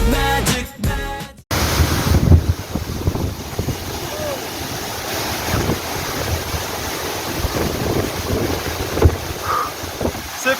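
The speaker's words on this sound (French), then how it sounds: "C'est presque difficile de respirer tellement ça fait du vent." Strong gusts batter the microphone outdoors near open water, a loud roaring rush over crashing surf with sharp buffeting thumps; a brief burst of music opens before the wind takes over.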